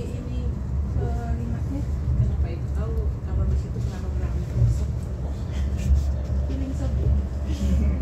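Inside the Whoosh high-speed bullet train in Indonesia, a steady rumble and rolling roar of the moving train fill the cabin, with voices talking faintly underneath.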